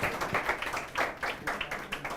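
A small classroom audience claps for a student in a steady patter of many hands, fairly faint and uneven, with no talking.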